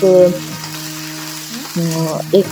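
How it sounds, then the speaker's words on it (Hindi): Loud sizzling of cumin, garlic and chili frying in hot oil in a kadai, with steady crackle and a few tonal clatters of stirring over it. "कढ़ाई के अंदर मैंने थोड़ा तेल डालकर उसमें थोड़ा जीरा डालकर लहसुन और मिर्च डाल दिया था।"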